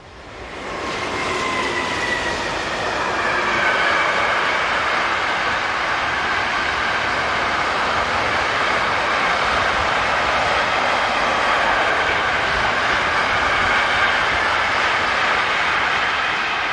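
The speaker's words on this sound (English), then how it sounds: "Not far behind 26203 is 27112, with another northbound intermodal." A northbound intermodal freight train on a European line passes at a distance, a steady loud roar of wheels and rumble that swells in and holds for the full stretch, with no voices.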